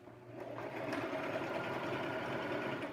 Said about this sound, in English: how to set up this sewing machine